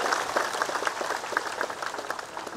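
A crowd at a political rally applauds to welcome a religious leader onto the stage, with dense, moderately loud clapping from many hands throughout.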